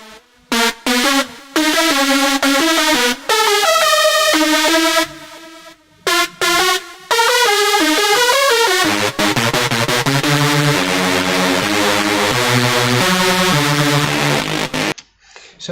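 A Reese bass synthesizer patch built in Native Instruments Massive plays a sequence of sustained, buzzy detuned notes with short gaps between them, then a denser passage of stacked tones, loud and up front with no talking.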